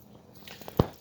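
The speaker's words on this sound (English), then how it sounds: "I'm going to pour about a third of this bottle on it." Worcestershire sauce pours from a big bottle onto a raw brisket, making a soft wet trickle that ends in one distinct squishy splash near the end.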